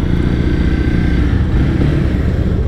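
A Mercedes-AMG C63 S engine rumbles steadily and close by, a constant deep throb with no clear revs or pauses.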